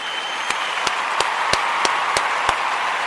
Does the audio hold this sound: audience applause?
yes